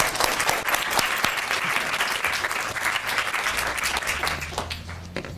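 A lecture audience at the University of Cambridge applauds steadily to welcome Helena Kennedy QC, a dense, sustained round of clapping that fades slightly toward the end.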